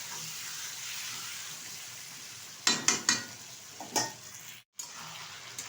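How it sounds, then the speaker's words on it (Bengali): Chicken sautés in a pan for a Bengali chicken dish, a steady low sizzle running throughout, broken by a few sharp scraping stirs of a spatula against the pan near the middle. "চিকেনটা কিন্তু খুব সুন্দরভাবে আমি কষিয়ে নিচ্ছি"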